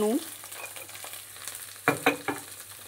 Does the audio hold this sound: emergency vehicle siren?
no